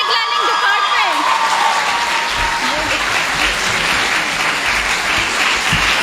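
Steady, dense audience applause at a Kashmir Day Urdu speech competition at Jinnah University, as a first-place winner is announced; loud, continuous clapping from a large crowd throughout, with some background voices.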